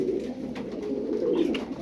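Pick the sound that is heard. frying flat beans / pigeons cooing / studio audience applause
pigeons cooing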